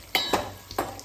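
Tomatoes fry in oil with curry leaves and chilies for a tomato pickle, giving a soft continuous sizzle broken by three quick stirring scrapes close by.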